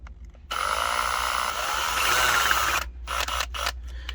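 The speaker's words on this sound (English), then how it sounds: "Now that I've drilled that access hole" A power drill with a 1/4 inch bit bores through the plastic dash of a 5th-gen Toyota 4Runner, a loud, steady whirring grind lasting about two seconds, followed by a few short, stuttering bursts.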